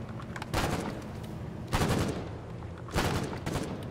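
Repeated bursts of gunfire during a pirate bay raid in a combat video game, three loud rapid volleys spaced about a second apart over a steady engine-like rumble.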